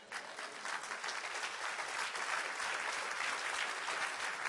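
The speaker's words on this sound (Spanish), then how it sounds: "Quiero un aplauso, Señor." Sustained applause from a church congregation, a steady, even wash of many hands clapping for several seconds, moderately distant and fairly quiet, with no voices on top.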